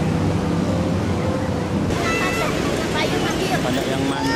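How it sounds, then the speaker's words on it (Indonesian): Ocean waves wash in at Parangtritis beach in Jogja, a broad rushing surf mixed with wind buffeting and a busy murmur of people talking. "Ombaknya nggak terlalu besar"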